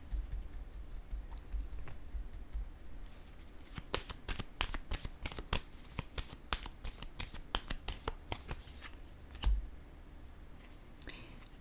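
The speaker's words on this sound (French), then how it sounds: "je vais déposer une autre carte ici" A card is laid down on a table during a card reading, with a quick run of crisp papery clicks and taps from cards being handled close by, over a faint low background hum.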